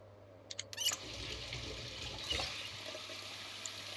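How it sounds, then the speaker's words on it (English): Water runs steadily from a tap as bottles are filled in the Project Zomboid video game, a soft, continuous rushing stream that follows a few brief clicks at the start. "Let's fill our water bottles"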